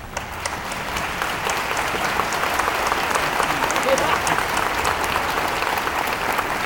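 A graduation audience claps for the GED program staff, steady dense applause from a sizeable crowd filling the whole stretch, with faint voices mixed underneath.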